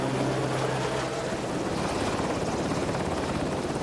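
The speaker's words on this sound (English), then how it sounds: "The aircraft then climbs to the hopper position and moves away to the windward side of the ship." A helicopter climbs away from a ship's flight deck with a loud, steady rotor and engine roar that fills the whole moment without a break.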